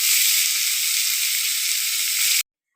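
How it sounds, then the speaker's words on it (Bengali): Sliced onions fry in a pan with a loud, steady, close sizzle that holds evenly for over two seconds, then cuts off abruptly into silence. "পেঁয়াজটা কিন্তু আমি খুব বেশি ভাজবো না"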